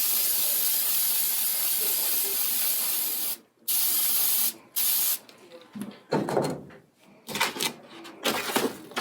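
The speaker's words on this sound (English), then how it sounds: "I'll take my spray adhesive and I'll spray the tops of it first" Spray adhesive hisses from an aerosol can in a few sustained bursts, loud and close, broken by short pauses and then followed by choppier, irregular spurts and handling noises.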